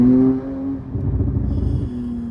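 A 1000 HP Porsche 911 Turbo roars hard through one gear, its engine note climbing loud and close with a strong low growl, easing briefly before pulling again to the end.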